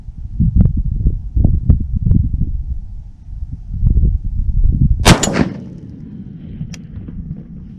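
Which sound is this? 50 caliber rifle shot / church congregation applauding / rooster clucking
50 caliber rifle shot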